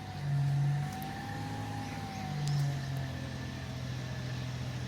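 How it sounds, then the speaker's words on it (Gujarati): A car engine revs up in two swells, the first near the start and the second around two and a half seconds, each rising over a steady low idle with a faint hum. The vehicle is parked outside a house. "આપણી ગાડી આવી ગઈ છે બહાર"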